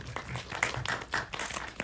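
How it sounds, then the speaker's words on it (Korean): A film-festival audience claps steadily after a Korean director's talk, giving a soft, even patter of many hands from the room at moderate to low level. "박수 한번 부탁드립니다."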